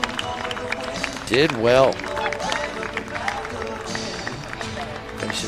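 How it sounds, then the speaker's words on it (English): A baseball crowd claps and cheers for a departing pitcher at an NBC World Series game between the Seattle Studs and Lonestar Baseball Club, a brief swell of applause rising over the stadium murmur while a voice talks over it. "give him a round of applause"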